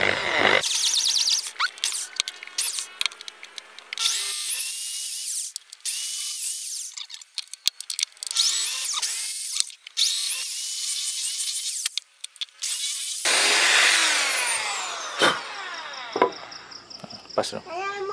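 A power drill bores bolt holes into yellow bamboo, its high whine starting and stopping in several loud bursts, followed by squeaky scraping and handling sounds near the end.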